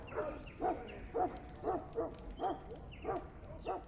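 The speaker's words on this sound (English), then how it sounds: "Your bloody mongrel keeps getting into my larder." A dog in the Dragon Age Origins video game gives a string of about eight short, evenly spaced yips and whimpering barks, moderately close, with no speech.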